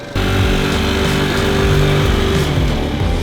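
A small scooter engine starts up and runs steadily, a loud, buzzy idle that holds constant with slight shifts in pitch.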